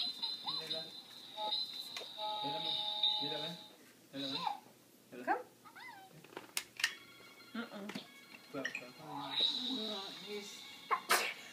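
A quick sneeze amid chatter and household noise, with a high electronic tone sounding in the background and several voices talking nearby.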